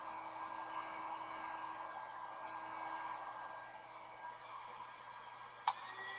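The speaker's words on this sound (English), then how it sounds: "It's a heat gun, 380 watts. So mini heat gun." A mini 380-watt heat gun runs with a steady, even airflow hiss and whir like a hair dryer, held close for the whole stretch, with one brief sharp click near the end.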